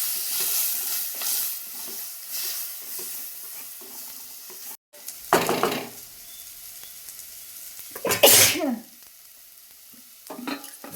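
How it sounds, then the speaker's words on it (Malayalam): Tomatoes and coriander powder sizzle in a hot pan as they are sautéed, with hissing frying and a couple of sharp bursts of stirring and scraping against the pan, and no talking. "തക്കാളി കൂടി ആഡ് ചെയ്യാം. നന്നായി വഴറ്റി കൊടുക്കാം."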